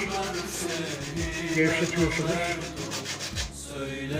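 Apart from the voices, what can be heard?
sandpaper scrubbing grease off a stove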